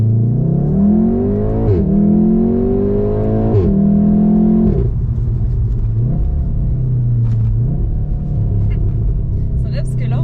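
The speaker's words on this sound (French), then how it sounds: "Bref, une petite accélération." A car accelerates steadily, its engine note rising through several gear changes with a loud droning rumble, while a person talks over it.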